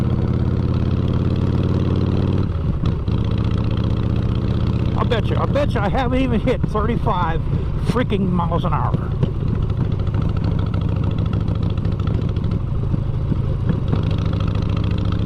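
A motorcycle engine hums steadily at low speed on a road ride around Lawrenceville, a continuous mid-pitched drone running under a rider's talk throughout.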